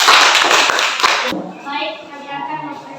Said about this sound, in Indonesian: Kita berikan tepuk tangan buat mereka.